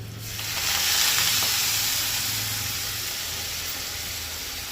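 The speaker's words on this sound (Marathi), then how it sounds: "आता इथे मी तेल तापवत ठेवलेलं त्याच्यात जिरं टाकते आणि मेथी" Cumin and fenugreek leaves hit hot oil in a pan, giving a loud, close, continuous sizzle that swells quickly and then holds steady.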